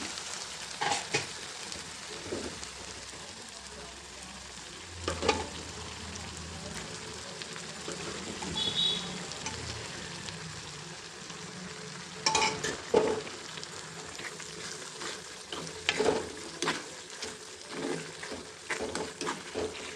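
Mustard greens for sarson da saag fry in oil in a pan, a constant soft sizzle broken by repeated scraping, clattering stirs, while a voice talks quietly over the cooking at times.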